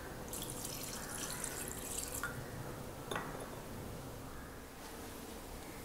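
Water poured into a pan of mutton bone preparation for a baby, a steady close trickle with drips and light splashes, no talk.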